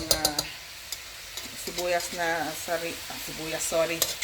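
Chopped garlic sizzles and sautés in a pan while cooking binagoongang baboy sa gata, a soft frying hiss beneath a person talking, with occasional utensil clicks.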